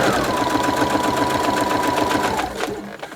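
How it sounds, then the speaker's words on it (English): A sewing machine runs a close edge stitch joining fabric to a clear plastic bag, a rapid steady mechanical chatter of the needle that carries loudly for a few seconds before slowing to a stop. "we're going to do a nice close edge stitch along there"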